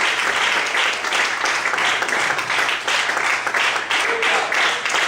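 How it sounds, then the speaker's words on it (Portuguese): Loud, sustained applause from a church congregation praising God during a sermon, dense clapping filling the whole stretch without pause. "Mais fortes palmas"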